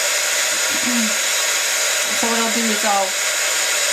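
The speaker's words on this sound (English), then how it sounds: "melt this with the heat gun" A steady, loud rush of blowing hot air fills the whole clip, with someone speaking briefly underneath it.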